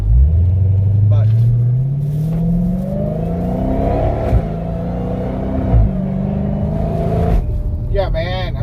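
A Dodge Charger Hellcat with a GtHaus exhaust revs and accelerates, a deep rising rumble that swells and holds before easing off, heard close from inside or near the car, with a brief voice near the end.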